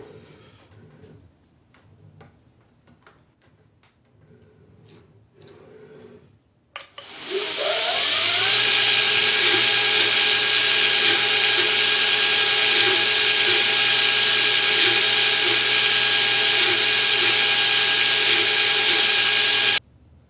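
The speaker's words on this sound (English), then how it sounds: "Surface grinders are just for making parts flat." In a knife shop, a surface grinding attachment starts up after a few quiet seconds of faint clicks, then runs as a loud, constant high-pitched whine with a steady hum until it cuts off at the end.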